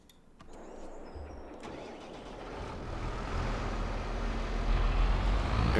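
A McCormick tractor engine in Farming Simulator 22 turns over after a soft click and settles into a low rumble that grows steadily louder and fuller, heard alone and close.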